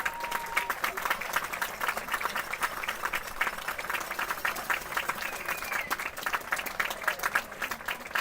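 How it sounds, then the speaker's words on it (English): Crowd applause at a state quarterfinal softball playoff game, a steady rattle of many hands clapping at moderate distance, sustained for several seconds with faint crowd murmur and a brief whistle-like tone. "Nice round of applause."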